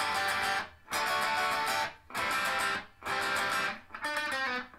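Electric guitar plays the intro riff of a song in four bright, evenly spaced strummed bursts with brief gaps between them, then picked single notes. The playing is fairly close, with no talking.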